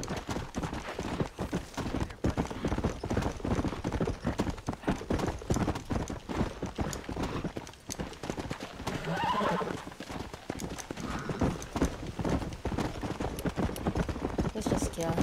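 Rapid hoofbeats of a galloping horse pound steadily throughout in the video game Red Dead Redemption, with a horse neighing partway through and a voice talking over the action.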